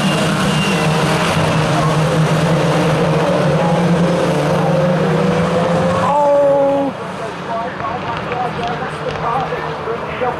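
BTCC touring cars race at Thruxton in 2017, their engines droning loud and close before one passes and the noise falls away, with a commentator's voice over the top.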